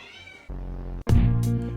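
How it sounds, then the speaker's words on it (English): A cat lets out a couple of loud, close meows, a strained, drawn-out call rising in the second half, with a brief gap between. "This cat needs to go back to training."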